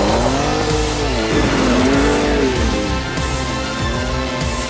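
A 2023 Ford Ranger Raptor with a twin-turbo V6 roars loudly through its selectable-mode exhaust, the engine note rising and falling steadily with revs for several seconds, with no talk over it.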